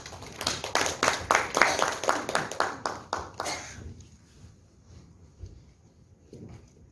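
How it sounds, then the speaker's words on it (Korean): A small indoor audience at a city forum on street-tree policy claps for about three and a half seconds, loose and scattered, before the applause fades into quiet room noise. "우리 박수로 모시겠습니다."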